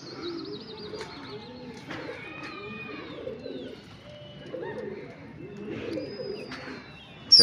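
Fighting pigeons coo repeatedly in soft, rolling calls, with scattered chirps and a brief flutter of wings near the end, heard fairly close in a quiet setting without talking.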